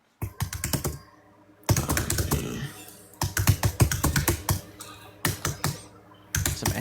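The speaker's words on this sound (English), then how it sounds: "Some angry typing." Loud, fast computer keyboard typing in bursts of rapid clicks separated by short pauses, close and clear with no one speaking.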